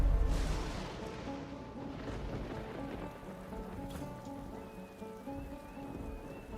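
Video game rain in Divinity: Original Sin II: steady rain patter with faint rumbling underneath, continuous and fairly quiet, with no voices.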